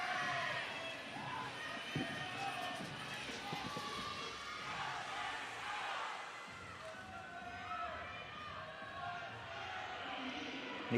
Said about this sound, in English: Anna Eames comes out now to take applause.